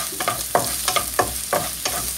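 Chopped onions hit hot oil for a vegetable puff filling and fry with a close, steady sizzle, broken by regular scraping stirs about every third of a second.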